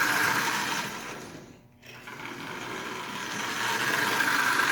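A Marx 994 toy train locomotive with a bent axle runs with a pronounced wobble, giving a steady, close mechanical whirring hum that dips briefly partway through before resuming at even loudness.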